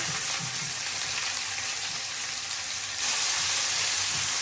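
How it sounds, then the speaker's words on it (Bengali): Chopped onion fries in oil with bay leaf and cinnamon, making a constant hissing sizzle close by. The sizzle grows a little louder partway through, with faint clinks underneath. "এখানে দিয়ে দিলাম পেঁয়াজ কুচি।"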